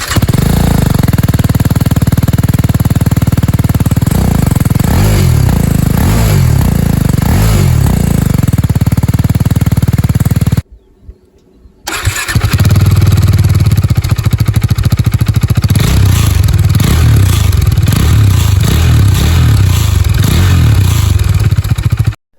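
KTM Duke and BMW A2-licence motorcycle engines run one after the other, each a loud, steady close-up engine drone with rhythmic pulsing, split by a brief pause of near silence.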